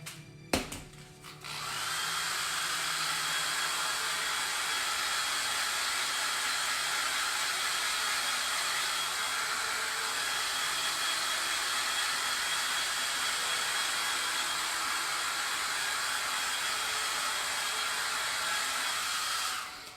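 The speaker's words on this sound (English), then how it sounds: "Let me just dry this section really quick." A hair dryer blows steadily on a freshly painted section of a fall floral craft project, starting after a brief clatter and running loud and continuous for most of the twenty seconds before cutting off at the end.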